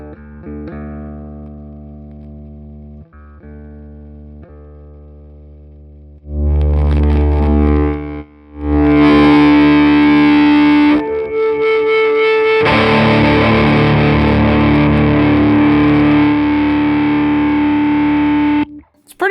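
Loud, heavily distorted electric guitar through a Peavey Studio Pro 50 1x12 combo with pre around 3, gain at 9 and post at 5, sustained crunchy chords and bursts after some quieter clean notes, with short gaps.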